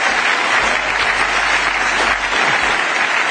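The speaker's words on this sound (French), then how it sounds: "Vous pouvez l'applaudir." Audience applause rises at a talk show dinner segment, a dense, loud wash of clapping that stays level and continuous throughout, with a low rumble underneath and no clear voices above it.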